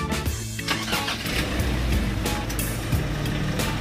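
A van driven by a woman on a road trip to Batangas port carries steady engine and road noise throughout, a continuous low rumble with no voices.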